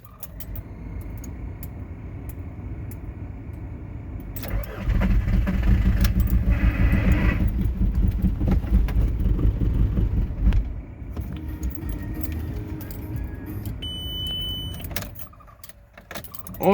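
Cold start of a 2004 Volkswagen Jetta TDI diesel in subzero windchill: the engine cranks and catches into a loud, rough idle that later settles, with keys jangling at the start.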